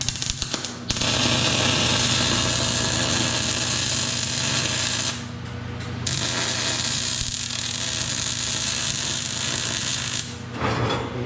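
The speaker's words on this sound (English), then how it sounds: "Then we're gonna do the bottom weld on the top too." Welding the bottom of a metal trolley, a loud close continuous crackling buzz in long runs broken by short pauses, with no talk.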